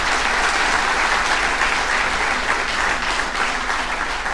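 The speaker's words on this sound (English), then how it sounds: "let's give Professor Ravi Kannan a wide applause for the Donald Knuth Prize" A lecture-hall audience gives sustained, even applause for a professor being honored with the Donald Knuth Prize, a dense wash of clapping at steady loudness throughout.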